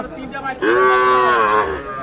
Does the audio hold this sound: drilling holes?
no